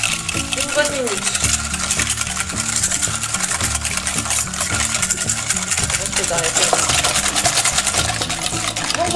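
Egg yolks whisked with sugar in a bowl for a French home-style strawberry gratin, the quick steady scrape and tap of the whisk running continuously under music throughout.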